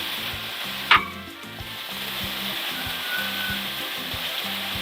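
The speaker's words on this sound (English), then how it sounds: "I'll give this sausage and onion mix a head start cooking so the onions can cook through" Sausage and onion mix frying in a pan for breakfast burritos, a loud, steady close sizzle with one sharp clatter early on, over quiet background music.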